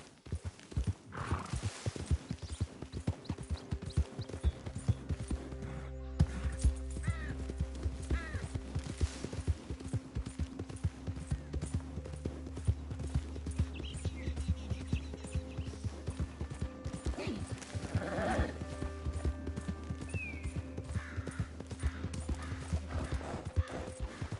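Horse hoofbeats from riding in the video game Red Dead Redemption 2, a continuous rhythmic clip-clop of galloping hooves with an occasional whinny and low background music, fairly quiet throughout.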